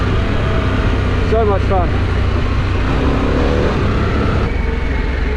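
Harley Davidson Pan America motorcycle on a test ride near Nelson, New Zealand, with a steady engine drone under loud wind rush and a brief burst of revving, while a rider talks over it.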